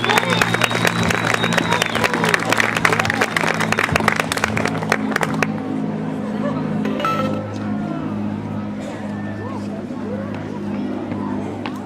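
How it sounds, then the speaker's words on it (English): Crowd clapping for a parade grand marshal at an outdoor event, dense applause for about five seconds over a steady low musical hum, then fading into background chatter and ambient noise. "Let's give Bill a round of applause."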